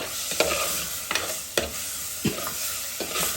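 Onions sauté in a clay pot for pepper chicken, with a constant sizzle broken by several distinct scraping strokes of a spoon stirring at an even, unhurried pace.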